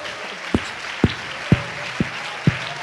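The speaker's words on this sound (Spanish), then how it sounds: "Aplaudan." A congregation claps in a slow, even rhythm in church, five sharp, evenly spaced claps standing out over a low hiss of the room.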